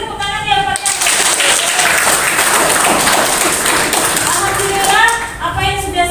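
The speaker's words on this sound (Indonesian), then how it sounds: "Beri tepuk tangan yang banyak." A classroom of students bursts into applause, a dense burst of clapping that fills the room for several seconds, with raised voices mixed in at the start and end.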